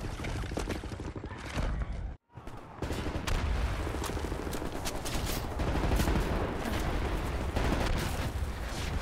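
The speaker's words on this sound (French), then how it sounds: "Ok, prêt à balancer les tirs de couverture" Covering gunfire in the Wolfenstein: The New Order game, sustained loud automatic fire with sharp repeated cracks and booms, briefly cut to silence near the start before the barrage resumes and keeps going.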